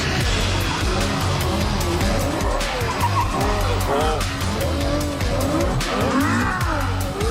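A Ferrari F12 sports car slides with tyres squealing in long wavering shrieks over a loud engine roar, close and continuous throughout.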